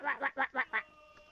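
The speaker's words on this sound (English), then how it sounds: "He begins to quack as a duck" A video game duck character quacks five times in a quick, even series, each quack short, nasal and close, followed by a faint fading tail.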